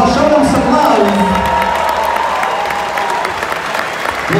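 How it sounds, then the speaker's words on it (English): Audience applause with cheering and whoops at a 2019 fight night event in a memorial hall, a loud, dense crowd roar of clapping that holds steady and eases slightly toward the end. "Let's give them a round of applause."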